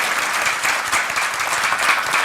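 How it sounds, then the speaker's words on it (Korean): A crowd applauds at a mayor's public policy speech, with dense, steady clapping close by and no talking. "우리 시장님 항상 박수 좀 쳐주세요."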